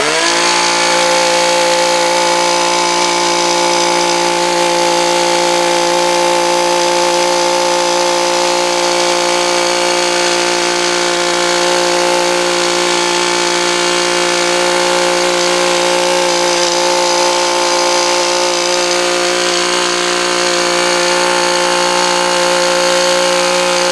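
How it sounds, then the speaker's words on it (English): ECHO PAS tiller/cultivator attachment working a flower bed, its small two-stroke engine droning loud and steady throughout with a constant high whine and no talk. "this is going to be a lot easier to do a whole flower bed using the tiller"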